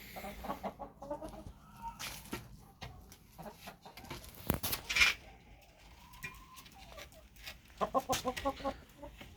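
Chickens cluck and murmur close by in irregular bursts in wintry frost, with scattered scratching and rustling sounds around them.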